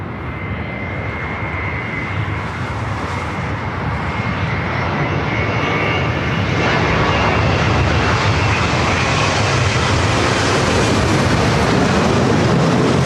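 An All Nippon Airways Boeing 787-9 Dreamliner landing at Los Angeles airport, a loud, dense jet roar that builds steadily and stays close and strong throughout, with a faint high whine on top.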